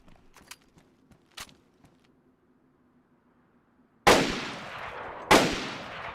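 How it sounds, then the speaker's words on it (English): Two loud, sharp gunshots ring out close together in the DayZ video game, each with a short decaying tail, following a stretch of faint clicks and quiet ambience. "I get way too excited when I shoot these, man."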